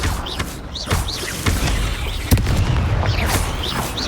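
Confringo fire spells exploding in Hogwarts Legacy, several deep booming blasts and thuds, loud and overlapping, with whooshing spell effects and no speech.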